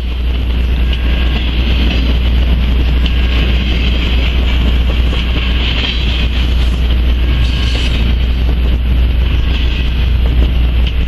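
An intermodal container freight train rolls past nearby, a loud continuous low rumble with steady rail noise and wheel hiss, no voices.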